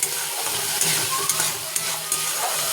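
Oil and paneer sizzle loudly in a pan as masala is added, with steady frying hiss and several sharp stirring clicks and scrapes.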